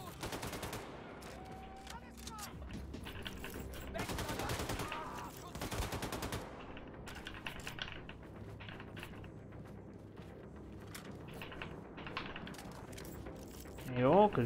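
Gunfire from the first-person shooter Wolfenstein II: The New Colossus crackles in dense rapid bursts under game music and mechanical clatter, with someone talking over it.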